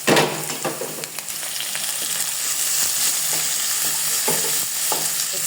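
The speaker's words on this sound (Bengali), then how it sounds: "ভালো করে পেঁয়াজ কুচিটাকে নাড়াচাড়া করে নেব। এবারে এর মধ্যে দিয়ে দিব কেটে রাখা গাজর কুচি," Chopped onion and carrot sizzling in oil in a pan while being stirred, a steady close frying hiss with scattered scraping stir clicks, no voices.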